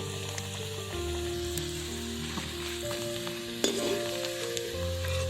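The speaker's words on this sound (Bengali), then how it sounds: "একটু বাদামি কালার করে এদেরকে ভেজে নেব" Snacks browning in hot oil make a continuous close sizzle and crackle, with a faint stirring scrape and one brief louder spatter. No voices are present.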